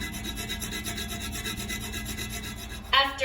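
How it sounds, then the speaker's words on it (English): A mini hacksaw cuts through toilet base bolts while installing a Kohler Highline Arc toilet, making steady, rapid, rhythmic rasping strokes up close, ending with a brief sharper scrape. "it's time to use our hacksaw"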